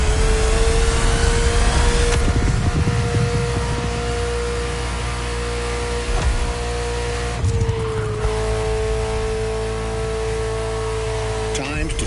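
A Ferrari F40 engine in The Crew Motorfest racing game howls at a steady high pitch, shifting gears with brief dips, alongside tire noise and a narrator's voice.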